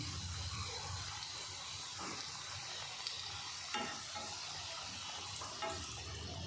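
Sweet fried modak for Ganesh Chaturthi sizzle softly in hot oil while being turned, a quiet, steady crackle with a few light scraping touches.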